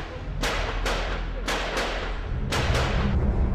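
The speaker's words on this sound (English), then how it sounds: "And then suddenly we heard more gunfire." Gunfire from the 2008 Mumbai attacks cracks out in about six sharp shots at irregular intervals over a low continuous rumble, moderately distant.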